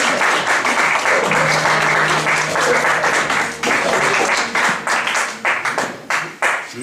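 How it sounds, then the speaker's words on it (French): A church congregation applauds loudly during a Sunday sermon, with a thick, close burst of clapping that breaks into scattered individual claps as it winds down. "Est-ce qu'on peut applaudir très fort la gloire du Seigneur?"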